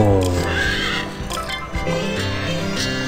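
Horse neighing in the video game Horse Farm, a loud whinny at the start with further game sounds following, all without speech.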